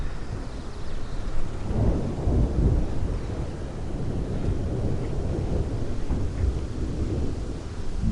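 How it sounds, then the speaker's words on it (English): Low thunder rolls and rumbles through a thunderstorm, a long, steady and fairly distant swell. "Love a thunderstorm."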